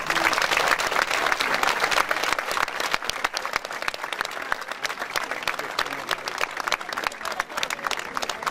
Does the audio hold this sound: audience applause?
yes